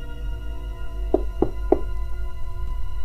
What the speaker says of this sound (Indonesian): Alika mengetuk pintu rumah warga hingga warga itu membukanya.